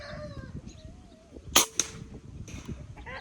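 A Benjamin Marauder air rifle is fired outdoors at a beer bottle, giving one sharp crack, then a quick second snap right after it, with faint ambient noise around.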